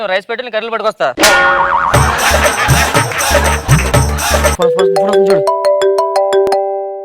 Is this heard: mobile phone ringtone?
yes